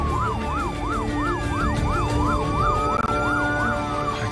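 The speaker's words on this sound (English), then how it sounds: "We're on lights and sirens here" A loud wailing ambulance siren, running on lights and sirens to an accident, sweeps up and down in a steady, rapid cycle, close by, over the rumble of traffic.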